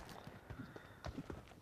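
Horse hooves clopping in a video game, a quick run of soft, fairly faint hoofbeats over about a second and a half with no talk.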